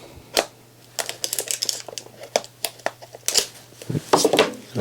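Sharp snips and crinkly crunches come in irregular bursts up close, like scissors cutting through stiff packaging, with a faint steady hum beneath.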